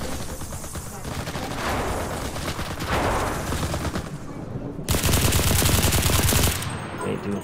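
Rapid automatic gunfire in the video game CRSED, dense sustained bursts with a louder, sharper volley near the end, under faint talk.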